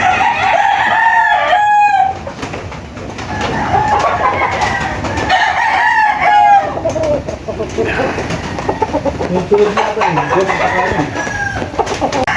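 Several gamecock roosters crow in turn at the Tilaok Game Farm, loud and near, mixed with clucking and other bird calls over about twelve seconds, with voices faintly in the background.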